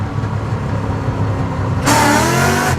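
A modified Ford Mustang engine roars loudly up close in second gear, then surges sharply into harder acceleration partway through.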